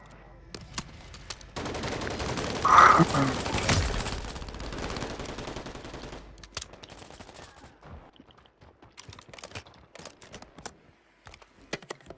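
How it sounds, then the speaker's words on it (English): Bursts of gunfire in a shooter game, a dense volley early on, then sparse scattered shots and clicks fading toward the end, with little else around them. "Taking fire."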